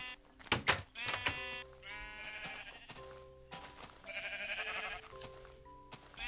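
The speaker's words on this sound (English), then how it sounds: "Let's come out here and tend to our sheep again." Several sheep in modded Minecraft bleat repeatedly, overlapping wavering cries near and far with short clicks and soft thuds between them.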